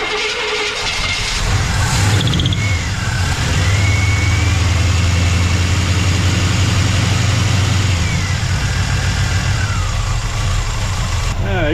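An old engine that had not been getting fuel now running steadily, a loud, close, rumbling idle with a couple of rising revs and someone speaking over it.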